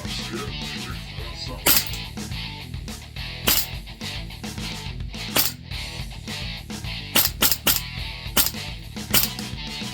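Tokyo Marui AKM airsoft rifle with a 310mm inner barrel firing 0.28 BBs, a string of sharp, snappy shots at irregular intervals, some in quick pairs, over steady background noise.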